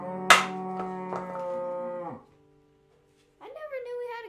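A single cow moos loud and close, a long droning low call that stops abruptly, followed after a short silence by another rising vocal sound, heard during a children's group sing-along show.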